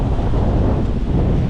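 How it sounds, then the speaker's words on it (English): Strong wind buffeting a microphone on a small fishing boat out on the ocean amid whitecaps, a loud, constant roaring rumble with no talk. "the wind is picking up pretty good"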